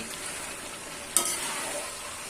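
Meat sizzles steadily in a hot pan for a curry, a continuous crackling hiss at close range with one brief sharp spike as it is stirred, no voices.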